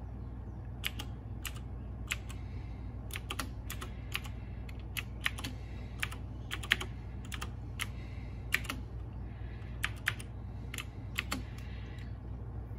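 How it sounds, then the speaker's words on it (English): Keys clatter as a password is typed on a computer keyboard, with quick irregular bursts of close, fairly quiet clicks over a steady low hum, and no voices. "so I do have to type in the password."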